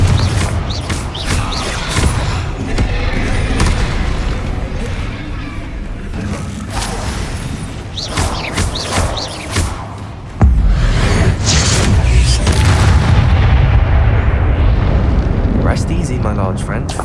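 Confringo spell explosions in Hogwarts Legacy boom and crackle repeatedly through a loud, dense battle, with a big blast near the middle, and a voice speaks at points.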